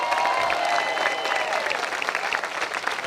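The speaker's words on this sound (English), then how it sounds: "Can y'all clap it up for them?" Sustained applause and scattered cheering from a crowd at a statue unveiling ceremony, steady and dense throughout, with some voices mixed in.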